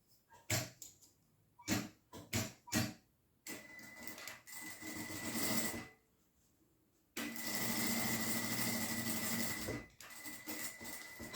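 A sewing machine runs in several bursts while stitching both edges of a fabric strip of jute and chintz, opening with a few short clicks and then settling into longer steady whirring runs, close and loud, with no talk.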